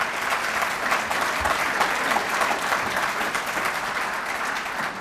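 An audience at a Council for Quality Growth gathering claps steadily, a dense, even wash of applause from a large crowd that holds at one level throughout.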